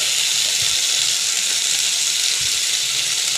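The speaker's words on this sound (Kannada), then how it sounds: "ಅದನ್ನು ಮೀಡಿಯಮ್ ಫ್ಲೇಮಲ್ಲಿಟ್ಟು ನಾನು ಫ್ರೈ ಮಾಡ್ತಾಯಿದ್ದೀನಿ" Brinjal frying in oil in a pan over a medium flame, a steady bright sizzling hiss that holds evenly throughout with no voices.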